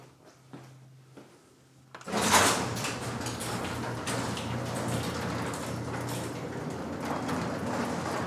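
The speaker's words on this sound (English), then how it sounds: "let's go ahead and raise that garage door again" A garage door rises on a motor powered by an OUPES Guardian 6000 power station, starting abruptly after a quiet hum and running as a steady, loud rumbling rattle with no talk over it.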